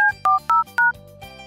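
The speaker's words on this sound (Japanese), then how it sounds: "で警察に今から電話する" Telephone keypad tones dial a call to the police, four short, loud two-tone beeps in quick succession, followed by a faint low hum.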